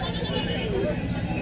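A goat of about 40 to 45 kilograms at the Saikheda goat market gives a brief, wavering bleat amid steady crowd murmur and market noise.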